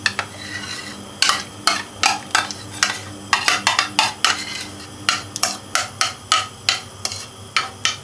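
Cream of corn being stirred into a pot of Pakistani chicken corn soup, with a spoon scraping and clinking against the metal pot in a steady run of repeated strokes, close and fairly loud, with no talking.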